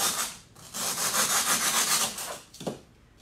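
Flower stems for a spring arrangement being trimmed, a steady close rasping cut lasting a few seconds with a short pause at the start and a sharp snap near the end.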